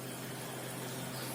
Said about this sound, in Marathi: आता याला व्यवस्थित आपण उकळून घेऊया. कमी फ्लेमवर याला उकळून घ्यायचं.